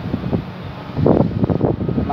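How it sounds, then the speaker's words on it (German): Moderate gusts of wind in Hamburg rush past the microphone in uneven swells, low and rumbling, and grow louder in the middle before easing slightly. "bei uns ist es immer noch relativ windig"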